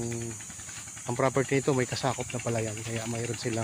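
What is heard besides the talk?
water flowing in an irrigation channel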